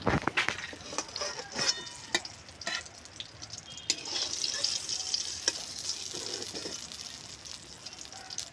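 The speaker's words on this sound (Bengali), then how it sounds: "বেগুনগুলো ভাজা হয়ে গেছে" Eggplant slices sizzling steadily in hot oil in a pan, with occasional sharp clinks and scrapes of a utensil over a constant frying hiss.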